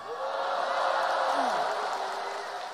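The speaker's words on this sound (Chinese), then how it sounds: "全是男观众鼓掌" An all-male audience at a crosstalk comedy show applauds in a dense, steady wash of clapping that holds for the whole stretch with faint whoops.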